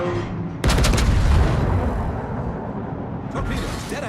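Secondary guns firing at an enemy ship in World of Warships: a sudden loud burst of booming gunfire with rolling echo that fades, then a second burst near the end, with a voice faintly underneath.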